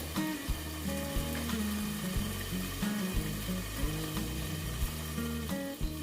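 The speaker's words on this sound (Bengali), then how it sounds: "আমি একটু ঢেকে ঢেকে এটাকে কষাবো" Pointed gourd with fennel fries in a partly covered pan, a soft, continuous sizzle with repeated scraping and clinking as it is stirred, close and unaccompanied by talk.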